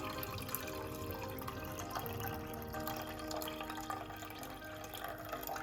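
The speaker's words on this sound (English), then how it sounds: "So now I am going to pour the water of the porcini because it needs to be warm." Warm porcini soaking water poured into a pan of pumpkin and sausage risotto, a steady close liquid trickle and splash running without pause, no talking over it.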